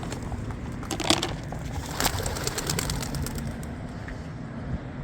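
Racing pigeons released on an evening training toss, with a steady wash of wing flapping and flock commotion, a couple of sharper bursts near the start and middle, and faint cooing in the background.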